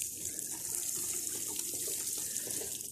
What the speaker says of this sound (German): Kommt jetzt noch eine Ladung Wasser drauf aus der Gießkanne mit effektiven Mikroorganismen.